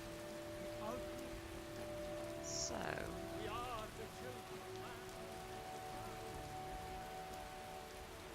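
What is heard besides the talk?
rain falling in the video game Skyrim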